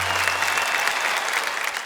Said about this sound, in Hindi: इनके लिए जरा तालियां बजाइए